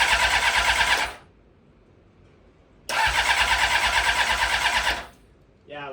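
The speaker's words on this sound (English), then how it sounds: "The motor does sound very good." Honda CBR 600RR motorcycle engine cranking over without catching on a rebuilt bike, two loud sustained bursts of starter whir about two seconds each separated by silence, close up.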